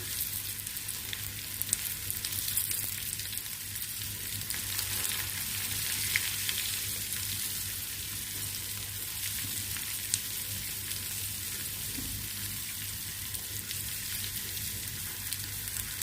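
Green chillies fry steadily in hot oil, giving a continuous, even sizzle with no voices.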